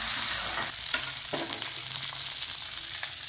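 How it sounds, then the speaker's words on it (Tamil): Small onions sauté in oil in a clay pot, sending up a continuous close sizzle with occasional scraping stirs and light clicks of a utensil against the pot. "சின்ன வெங்காயம் நல்லா வணங்கி வர வரைக்கும் வதக்கலாம்."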